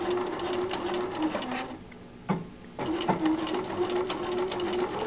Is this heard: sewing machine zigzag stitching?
yes